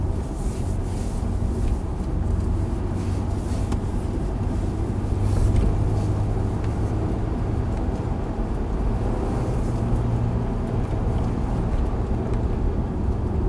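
A car rumbles steadily from inside the cabin as it heads into a tight corner, a continuous low engine and road drone that swells slightly midway, without speech.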